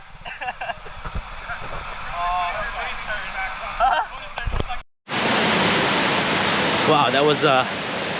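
Roaring water at Aling Aling waterfall pours in a loud, steady broadband rush that swells abruptly midway after a brief dip, with excited voices talking and shouting over it throughout.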